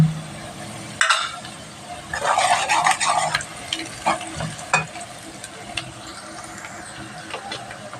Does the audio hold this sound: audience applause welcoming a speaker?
no